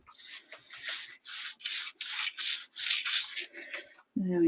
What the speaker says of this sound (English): Let's just rub that on.